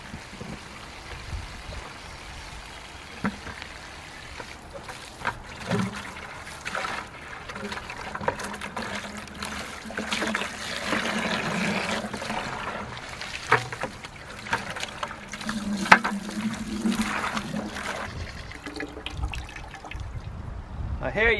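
Water poured and sloshed from a bucket outdoors while washing out chickens' drinking water, with trickles and splashes running intermittently under a person talking to the animals nearby.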